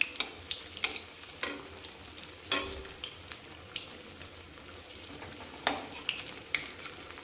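Cheese bread pakoda frying in hot oil, a steady soft sizzle with scattered crackles and a few sharper pops and utensil touches, close and alone without voices.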